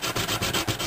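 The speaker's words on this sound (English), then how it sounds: "You do have to sand it down a little, so that's what the need for the sandpaper." Sandpaper scrubs rapidly back and forth over the cut edge of a homemade spool knitter, in a close, loud, rhythmic rasp of several quick strokes.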